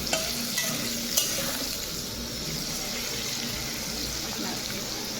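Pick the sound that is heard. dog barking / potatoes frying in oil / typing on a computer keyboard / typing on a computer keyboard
potatoes frying in oil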